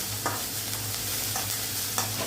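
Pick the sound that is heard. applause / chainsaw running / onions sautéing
onions sautéing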